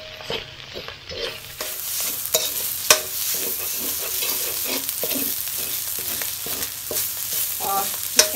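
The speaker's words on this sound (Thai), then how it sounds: "ผัดให้หอม" Red curry paste stir-fried in a pan for a roasted duck red curry, with a steady close sizzle and repeated scraping stir strokes throughout, no voices.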